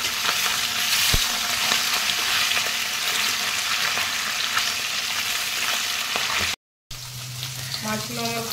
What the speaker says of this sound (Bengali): ভালো করে মাছগুলো ভেজে নেব।